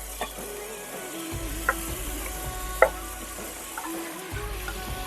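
Marinated chicken tipped into frying masala for Naati-style chicken donne biryani: a steady low sizzle with soft stirring scrapes and a couple of sharp clinks of the spoon against the pan, with no talking.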